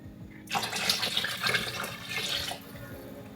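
Water pours steadily into a soup pot being made like Olive Garden Zuppa Toscana, a close gushing splash that starts suddenly and runs for a few seconds before easing, with no talk.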